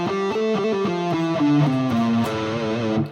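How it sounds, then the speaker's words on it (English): An electric guitar with a mildly overdriven tone plays a scale in the A Phrygian mode, picking single notes in a steady descending and ascending run, close and clear, without any talking. "So now if I play A Phrygian looks and sounds like this."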